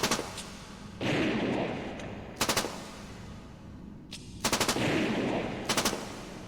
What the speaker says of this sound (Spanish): escuchaste el sonido de disparos y voces